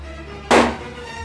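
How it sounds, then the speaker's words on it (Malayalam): A balloon bursts once in a hand with a sharp, loud pop that fades quickly, standing alone over low background hum. "ഇത് ഞാനൊന്ന് കയ്യിൽ വെച്ച് പൊട്ടിക്കാൻ പോവുകയാണ് മച്ചന്മാരെ"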